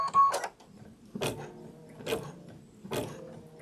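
An embroidery sewing machine works in short mechanical bursts, three or four whirring, clattering runs spaced about a second apart with quiet gaps between, heard close and moderately loud with no one talking.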